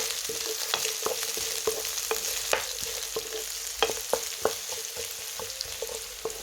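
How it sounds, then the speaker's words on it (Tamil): Onion, green chili and garlic sauté in a hot pan for potato patties, a steady sizzle broken by repeated clinks and scrapes of a spatula stirring, close and continuous with no talking. "இப்போ வதக்குறோம்"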